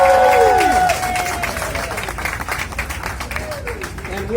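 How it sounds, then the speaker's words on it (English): A crowd at an outdoor Hollywood Walk of Fame ceremony applauds and cheers, claps thinning out after a louder opening, with voices and some tonal sound mixed in. "How about a big round of applause for the Hollywood Chamber of Commerce?"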